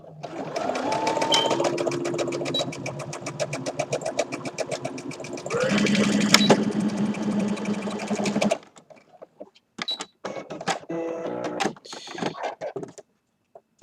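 Sewing machine stitching fabric for a Kamen Rider belt mod, running in loud steady bursts up close for about eight seconds, then falling to short intermittent stitches with pauses.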